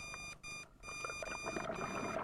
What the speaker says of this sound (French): Signal sonore d'alarme.